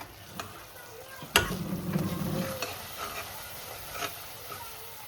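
A tadka for Maggi noodles sizzles in a pan with a stirring scrape and a sharp clink. A soft, crackling frying hiss rises for a couple of seconds, then settles into quiet ticks, with no talk.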